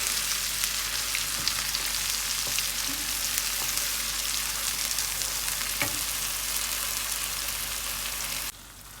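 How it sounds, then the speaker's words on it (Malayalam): Masala paste for a soya pepper fry sizzles steadily in hot oil, a close, dense, continuous crackle with faint occasional stirring taps that ends abruptly just before the finish. "ഇനി ഈ പേസ്റ്റ് നല്ലോണം ഈ എണ്ണയിൽ കിടന്ന് മൂക്കണം"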